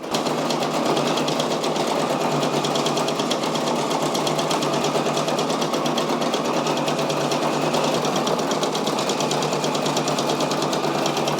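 A Brother SE625 embroidery machine stitches a patch with a steady, fast mechanical whirring and rapid needle chatter, loud and close, running continuously with no talking.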